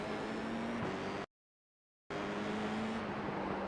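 Formula iR-04 open-wheel race car at Long Beach in iRacing, a steady loud engine drone that breaks off for a moment of silence, then returns with the pitch shifting as the car changes gear.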